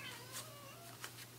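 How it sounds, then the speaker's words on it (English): A house cat meows close by indoors, a short, faint mewing call against a quiet background hum, with no talking. "That's a cat."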